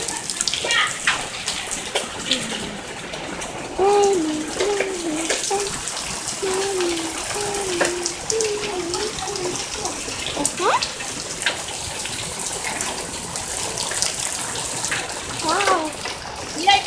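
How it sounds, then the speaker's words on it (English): Rain falling outside, a steady wash of patter and splashing drops that continues throughout, while a high, excited voice chatters over it. "It's raining outside."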